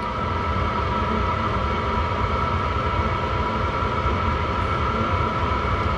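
A new garage heater runs at full output, a loud steady roaring blow with a constant whine, unbroken for the whole stretch with no voices.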